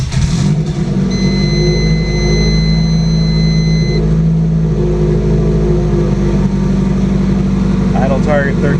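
A Subaru GC8 engine idling on a cold start, a loud steady low idle drone close up with a faint whine and slight shifts in pitch as the revs settle.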